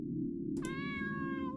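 The Space Kitty in the game Space Pilgrim Academy gives a single clear, drawn-out meow over a steady background hum.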